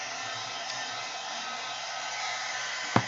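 A hair dryer blows steadily on collage artwork glued onto a bag made with napkins and acrylic inks, a constant close whirring hiss that ends with a brief click near the finish.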